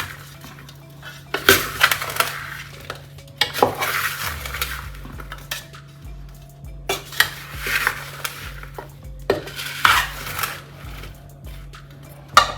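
About 130 grams of garlic and other pickle ingredients are mixed in a bowl, with repeated scraping clatters of a metal spoon against the dish over a steady low electrical hum.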